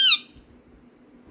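A pet peacock gives a single sharp, loud squawk right at the start, then only faint background hum and low rumble follow.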